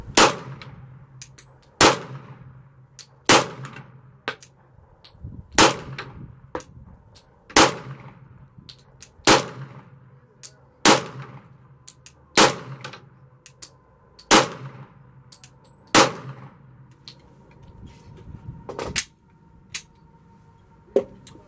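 About ten gunshots fired one at a time at a target, each a sharp loud crack with a metallic ring, spaced roughly every two seconds with quiet gaps between them.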